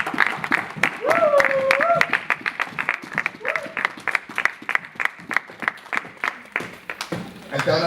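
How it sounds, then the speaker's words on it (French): A church congregation bursts into loud applause with a few cheers, then the clapping thins into scattered claps and fades before a voice resumes. "On acclame très fort pour la parole de Dieu."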